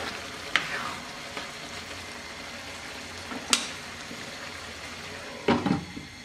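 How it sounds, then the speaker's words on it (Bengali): Fish-head curry with cabbage and potato being stirred in a pan over medium heat: a soft, continuous sizzle with a few sharp scrapes of the spoon against the pan, fairly quiet, no voices. "এবার আমরা নেড়ে দিচ্ছি, নেড়ে আমরা মিডিয়াম আঁচে আরও 5 মিনিট রান্না করব"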